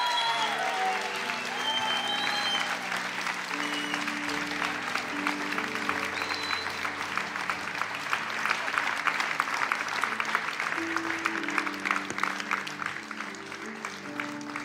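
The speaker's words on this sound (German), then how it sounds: "lasst uns auch zu Hause dieser grandiosen Frau einen fetten Applaus geben" Sustained audience applause at a German talk by a Christian speaker, dense and steady throughout with organ- or music-like tones sustained underneath, fairly loud and continuous.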